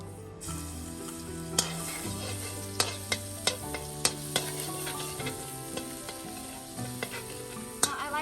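Garlic sizzles in sesame oil in a wok for a stir-fried spring roll filling, a steady close frying hiss with repeated sharp clicks of a utensil, all under loud background music, no talking.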